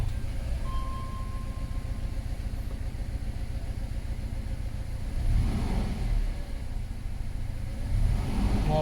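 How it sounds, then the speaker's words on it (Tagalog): A Toyota Fortuner engine with a misfire runs steadily at idle, its low uneven rumble carrying a faint whine early on and two brief rises in engine level toward the end; no voices. "Ayan, palyado."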